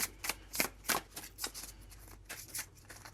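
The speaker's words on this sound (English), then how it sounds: "A couple more cards for our closing advice with our tarot cards." Tarot cards shuffled by hand during a reading, a series of soft, crisp riffling flicks and slaps in an irregular rhythm, fairly quiet and close with no talking.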